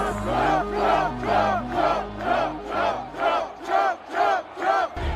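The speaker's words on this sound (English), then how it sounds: "Media will not show the magnitude of this crowd." A huge rally crowd roars in loud rhythmic chants, voices swelling and falling in steady repeated waves that fill the whole space, with no single speaker standing out.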